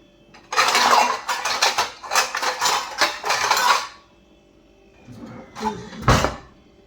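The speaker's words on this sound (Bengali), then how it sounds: "এখন একটা প্লেট দিয়ে ঢেকে দেবো। দেখি প্লেট কোথায় আছে, এর মধ্যে আছে কি।" Plates and dishes clatter and clink in a home kitchen while someone rummages for a plate to cover milk warming on a gas stove, with a long busy burst of handling followed by a pause and a final knock.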